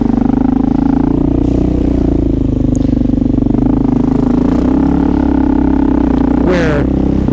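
A Honda XR650L motorcycle with a loud aftermarket exhaust rides through snowy streets in New York City, its low, steady engine drone close and continuous throughout, with a few faint clatters and passing noises over the top.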